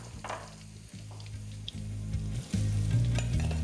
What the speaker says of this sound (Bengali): পেঁয়াজটাকে এখানে কিন্তু আপনাদের একটু লাল লাল করেই ভেজে নিতে হবে